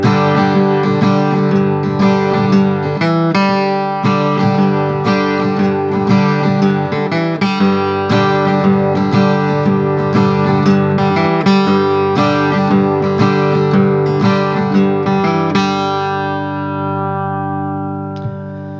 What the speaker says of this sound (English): he would play what is considered to be the origins of the G run